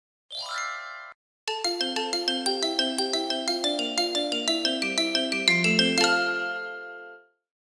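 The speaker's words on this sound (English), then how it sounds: "played some beautiful music on the xylophone" Xylophone music: a quick opening glissando, then a bright, rapid melody of struck wooden bar notes in an even bouncing rhythm, ending on a held ringing chord that fades away.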